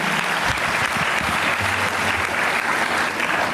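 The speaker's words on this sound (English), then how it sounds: "I request you all to give a big round of applause to Mr. Ramesh Revuru." An audience claps steadily, a dense burst of applause from many hands at constant loudness throughout, with no voices standing out.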